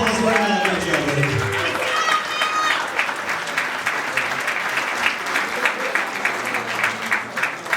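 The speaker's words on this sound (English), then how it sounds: "Give her an applause right now." Wedding guests at a reception burst into applause during the speeches, a dense, loud round of many hands clapping with cheers, following a voice at the start.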